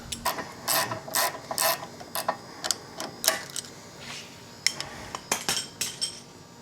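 A wrench loosens a sway bar link on a 2015 Subaru Forester, giving scattered bursts of sharp metallic ratchet clicks at close range, irregular and fairly quiet with short pauses between them.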